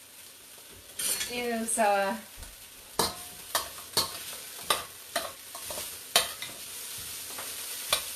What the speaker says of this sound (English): the onions are pretty much cooked here